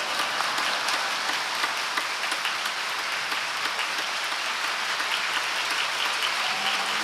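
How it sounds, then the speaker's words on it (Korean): Congregation at a Wednesday worship service at Yoido Full Gospel Church applauding to welcome the pastor, a steady, dense wash of clapping from a large indoor crowd sustained throughout, loud and even with no talking. "큰 박수와 할렐루야로 우리 목사님 맞이하겠습니다"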